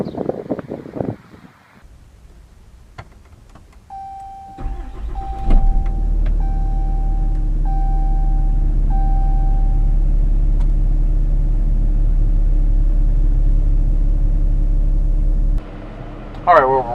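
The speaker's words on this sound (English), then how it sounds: "today we're going to take a quick test drive video in this 2013 Ram" A 2013 Ram 3500 Laramie Longhorn diesel pickup truck starts up and idles with a deep steady low rumble, accompanied by faint interior chimes and clicks, and then drives off near the end.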